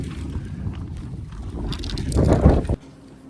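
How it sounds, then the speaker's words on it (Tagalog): Strong wind roars against the microphone in a steady low rush, surging louder before cutting off abruptly. "lakas ng hangin"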